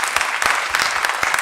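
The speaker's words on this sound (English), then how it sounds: "Let us have a clap for our presentation." An audience claps after a church plenary-session presentation, with dense, even applause at close range and no speech over it.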